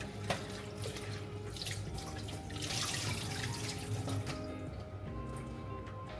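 Tap water runs steadily into a sink while mung beans are rinsed for a munggo dish, a continuous splashing wash with faint clinks, close by and with no talk.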